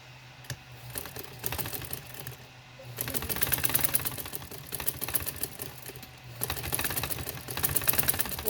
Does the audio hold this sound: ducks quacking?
no